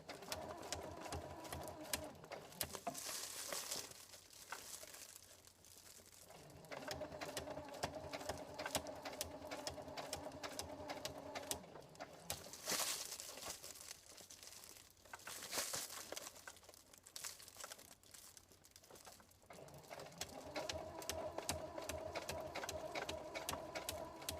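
Domestic sewing machine topstitching the flap of a fabric lunch bag 2 mm from the hem, running in steady whirring bursts with short pauses and soft fabric rustles between runs.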